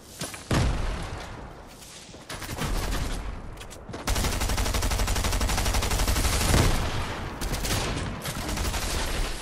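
Rapid bursts of gunfire from a Fortnite match, dense volleys of shots and fusillades running almost continuously, loud and close with brief gaps between flurries.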